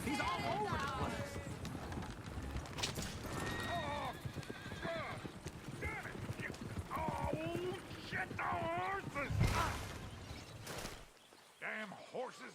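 Horses in the Red Dead Redemption 2 video game clip-clop and whinny, with hoofbeats and neighs mixed under near continuous talking, louder around a brief burst near the end before it drops off.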